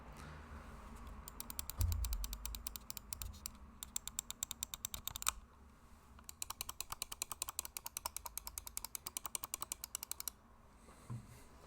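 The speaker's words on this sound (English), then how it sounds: "I'll give you a quick sound test of the side buttons and main clicks." Side buttons and main buttons of a Lamzu Thorn 4K ergonomic gaming mouse, clicked in quick bursts of sharp, close, dry clicks with pauses between runs, heard alone in a quiet room.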